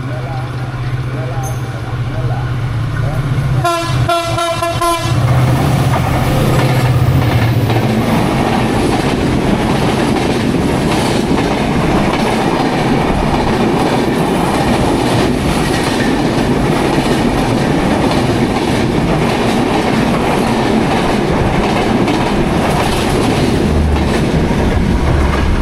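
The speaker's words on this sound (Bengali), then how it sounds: "চলে আসছে ট্রেন, বেশ জোরে সোরেই আসছে, ব্রড গেজের একটা ট্রেন।" The Drutojan Express, a broad gauge train from Panchagarh, rushes into Lahiri Mohanpur station with a loud, sustained roar and clickety-clack of wheels. A brief tonal burst sounds early on, and a voice is faintly heard under the noise.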